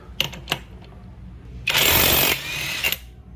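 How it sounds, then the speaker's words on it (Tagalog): An impact wrench loosens a tight side bolt on a Honda Click 150i scooter. A few light clicks come first, then a short loud burst of hammering rattle that lasts under a second and trails off into a quieter whir. "Ngayon, tirahin na natin dito sa impact wrench natin."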